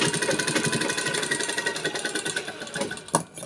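A sewing machine running a straight line of stitches, chattering in a fast, even mechanical rhythm close by, then slowing and stopping near the end.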